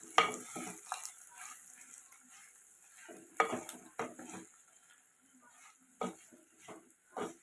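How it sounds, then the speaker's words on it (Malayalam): A spoon stirs chopped green chillies and ginger frying in a pan for Thrissur-style puli inji, with irregular scraping and clinking strokes over a faint, soft sizzle and quiet pauses between stirs. "100 ഗ്രാം പച്ചമുളക് ചെറുതായി കട്ട് ചെയ്തത് ഇട്ട് കൊടുക്കാം. നന്നായി ഒന്ന് ഇളക്കി മൂപ്പിച്ചെടുക്കാം."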